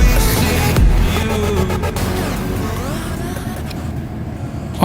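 A coach rolls along a road while overtaking a Nusa Bali bus, with a loud, close engine roar, a sharp bump near the start and shifting rumble as the vehicles pass.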